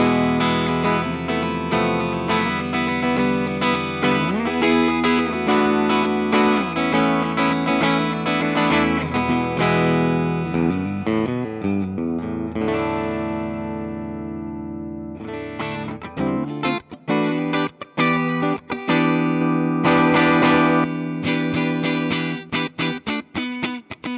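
Electric guitar with humbucker and single-coil pickups used together, played clean with chords and arpeggiated notes, shimmering with a chorus-like effect, then shifting to choppier, brighter strummed phrases toward the end.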